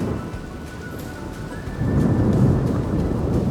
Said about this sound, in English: So the weather has taken a quick turn for the worse. It's raining